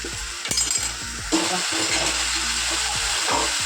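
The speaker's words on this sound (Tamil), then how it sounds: "சேர்த்து அதை நல்லா கிண்டி விட்டுக்கோங்க" Chopped banana flower with salt is stirred in an oil pan, giving clinking scrapes of a spoon against the vessel and a soft frying hiss underneath.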